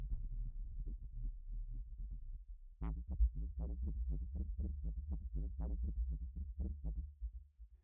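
A Spitfire Audio Albion V Bruno loop called Fartiest Maximus: a low, throbbing rhythmic pulse with a steady run of regular beats that thickens and grows busier partway through, playing alone without any voices.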